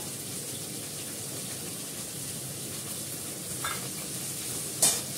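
Spices with green chilli and potato sautéing in a pan make a soft continuous sizzle, with a couple of brief stirring scrapes toward the end.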